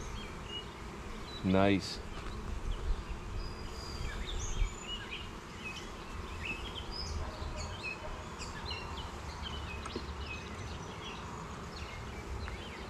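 Honeybees humming around an open hive, a low steady buzz with one close bee droning past early on, outdoors with faint birds and a brief spoken word.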